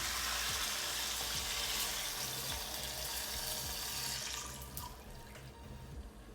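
About a cup of water pours into a hot pan for a pot roast, hissing and sizzling steadily at close range before easing off toward the end, with no talking.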